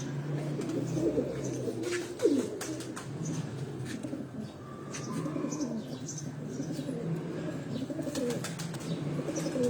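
A flock of pigeons, including Heera and chapra breeds, coos and chirps on a rooftop loft, with wing flaps and a sharp clatter near the start over a steady low murmur of cooing throughout.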